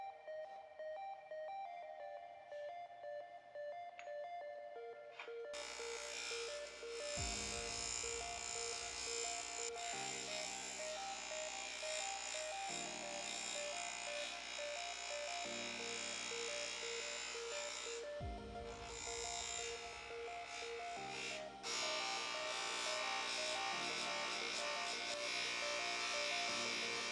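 A bench buffer fitted with a sewn buffing wheel runs as a steady, loud motor whine with a strong tonal hum, shifting pitch and load a few times over its length, with no talk.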